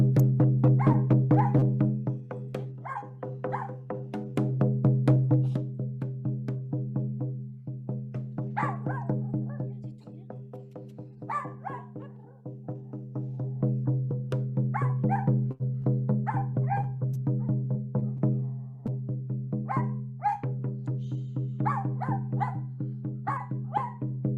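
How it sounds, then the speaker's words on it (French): A small dog yips and barks repeatedly in short bursts during a drum ceremony, sharp calls recurring over a steady low drone throughout. "on accueille les aboiements du petit chien qui veut danser, qui participe"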